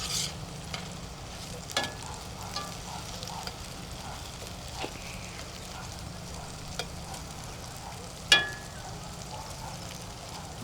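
Potatoes cook in oil in a cast iron pan, a low steady sizzle with occasional light clicks and scrapes of stirring and one sharper clank, no talk over it.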